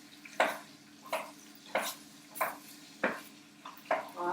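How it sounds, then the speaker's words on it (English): Apples and pears are being stirred in a pan for a crumble, a utensil scraping and knocking against the pan in six evenly spaced strokes, close and moderately loud, with no talking. "Right, I'm just trying to stir"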